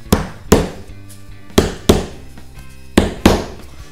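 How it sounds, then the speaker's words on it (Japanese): A hammer pounds the protruding edges of a wooden canvas stretcher frame flat, giving six sharp, loud, close blows in pairs, each ringing briefly and then dying away. "出っ張ったところはハンマーでぶったたいて平らにしましょう。"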